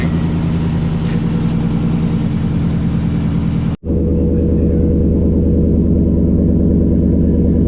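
A Nissan Titan pickup with a newly installed budget aftermarket exhaust runs with a deep, loud, steady rumble, briefly cutting out mid-clip before resuming its low throbbing idle.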